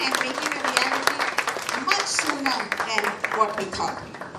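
Scattered audience applause at a cervical cancer-free Karnataka campaign event, with distinct individual claps breaking through alongside a speaking voice and crowd murmur.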